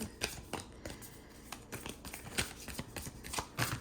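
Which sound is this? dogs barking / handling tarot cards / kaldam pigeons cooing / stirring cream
handling tarot cards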